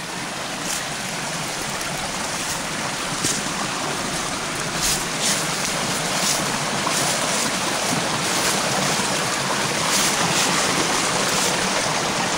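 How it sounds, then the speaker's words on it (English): A creek runs steadily down toward a waterfall through a stand of big hardwoods on rural Georgia land, its broadband rush of water continuous and even, close and fairly loud with no voices. "Here's the creek coming down to the waterfall."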